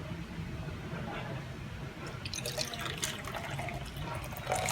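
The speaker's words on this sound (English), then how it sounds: "So I boil the water, let it cool down for a bit, and put it in the two containers for preheating." Hot, freshly boiled water is poured into a French press and a mug to preheat them, a soft splashing trickle that grows brighter and busier midway through, fairly close, with no talk.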